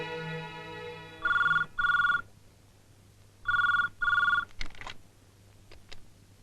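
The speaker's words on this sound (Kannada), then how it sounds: "ಡ್ಯಾಡಿ, ನಿಮಗೆ ಫೋನ್" A landline telephone rings inside a house, sounding two close pairs of loud, near electronic rings separated by a short pause, with no talking.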